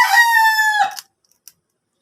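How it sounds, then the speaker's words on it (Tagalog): A single loud rooster crow, close and sustained for nearly a second, followed by a couple of faint clicks and silence. "Ang ingay ng manok."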